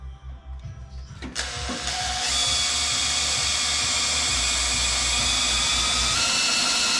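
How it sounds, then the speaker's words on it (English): A power drill bores out the fasteners on a 1969 GMC truck body, starting with short bursts and then settling into a loud, continuous whine that runs steadily to the end, with no talking over it. "We're gonna drill these out and we're gonna use rib nuts in here"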